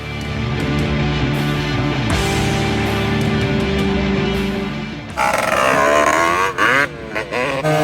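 A 1987 Honda TRX250R two-stroke ATV engine runs steadily at a droning mid pitch, then revs up hard into a louder, rising wail with quick throttle blips near the end.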